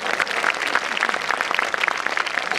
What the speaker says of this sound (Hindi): तो कुल सचिव साहब के लिए जोरदार तालियां।